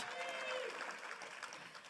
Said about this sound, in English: Can we give Rosa another round of applause?